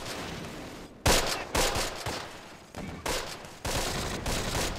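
Machine gun fire in the Close Combat World War II video game, several sharp bursts and volleys popping in fairly loud, irregular clusters with short gaps between them.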